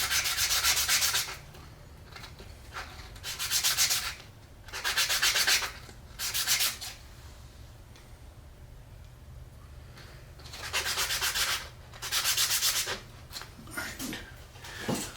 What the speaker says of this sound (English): I got all of my pieces sanded and fit.